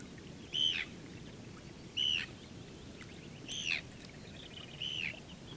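Arctic tern calling, four sharp, grating screeches spaced about a second apart, fairly close and clear over a low, steady background rumble.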